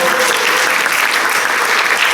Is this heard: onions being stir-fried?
no